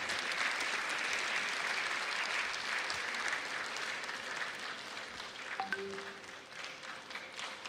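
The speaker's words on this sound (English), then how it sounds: "Shall we welcome him with a resounding round of applause?" Sustained audience applause welcoming a guest at a Zonta district conference, dense and steady clapping from a large crowd that slowly thins toward the end, with a faint ping near the close.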